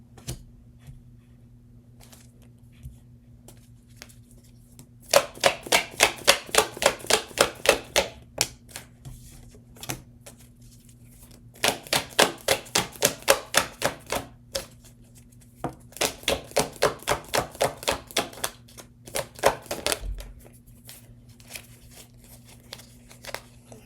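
A deck of tarot cards is riffle-shuffled three times, each pass a rapid, crisp flurry of card flaps lasting a few seconds, close and clear, with quiet handling noises between passes over a faint steady hum.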